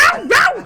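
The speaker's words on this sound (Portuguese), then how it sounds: "Aí tá lá o Theo e o Tom, meus cachorros." A dog gives two loud, close, yelping barks with a bending, howl-like pitch, quick and back to back.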